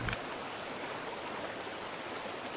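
The Reedy River in Greenville, South Carolina, flowing over rocks at Falls Park, a steady broad rushing of water with no pauses, moderately soft and continuous.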